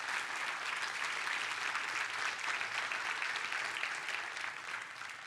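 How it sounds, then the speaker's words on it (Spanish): Sustained, dense applause fills a church service as the congregation claps for God, a steady loud wash of many hands that eases slightly toward the end. "Denle un fuerte aplauso a Dios."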